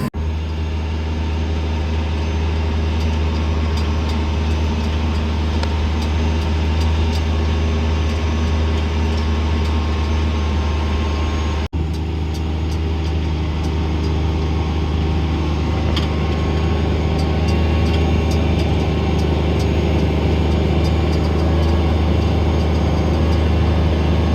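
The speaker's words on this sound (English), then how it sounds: "that was the last little bit of the plowing that we did with the grizzly" A Grizzly ATV drones steadily while pulling a plow across a farm field, its engine a continuous loud hum with a low rumble that holds without pause for the whole stretch.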